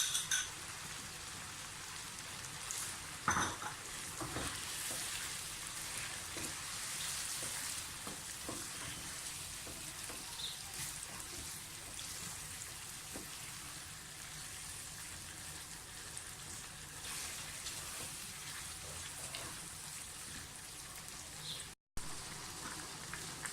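Chicken qorma with yogurt fries in a pan, giving a steady, dense sizzle with occasional stirring scrapes throughout and a brief dropout near the end.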